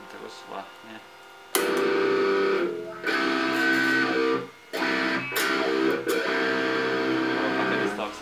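Electric guitar played through a JOYO Classic Wah pedal, sustained chords with a sweeping, vowel-like wah tone and buzzy harmonics, loud and close, broken by a couple of brief stops and restrikes, with no one talking.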